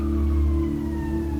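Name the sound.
sirens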